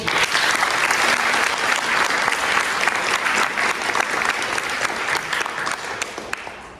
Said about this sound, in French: Je vous demande d'applaudir Maître Clotilde Leroux.